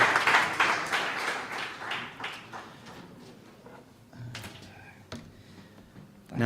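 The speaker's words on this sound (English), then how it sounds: "Give a big round of applause." Applause from a meetup audience: a burst of clapping that is loudest at the start, thins out over a few seconds, and gives way to scattered taps and handling noise.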